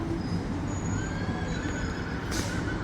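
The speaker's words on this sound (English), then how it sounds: "Did you hear that horse?" A horse whinnies outdoors on a city street during a crowded convention weekend, a thin, wavering neigh set against steady low traffic and crowd rumble, heard without talk.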